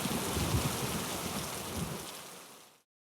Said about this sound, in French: La pluie commença à tomber. Les gouttes se suivirent bientôt, sans intervalle. Ce fut alors un vrai déluge.